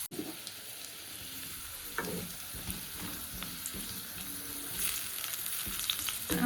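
Potatoes fry in a pan in a home kitchen, a quiet continuous sizzle and crackle with occasional sharper pops and clinks, low in level and without talk.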